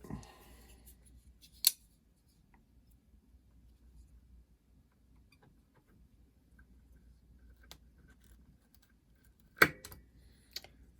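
Scissors snip thread on a miniature starling ornament: a sharp cut near the start, another around two seconds, and a louder close snip near the end, with quiet handling between.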